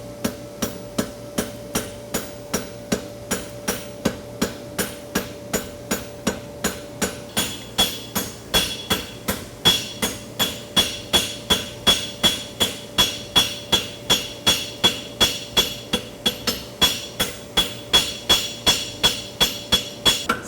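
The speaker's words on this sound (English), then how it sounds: "So a cross-peen is the type of hammer that you want to use." Steady, regular cross-peen hammer blows on a metal horseshoe, roughly two per second, with a ringing metallic tone that brightens partway through; no talking.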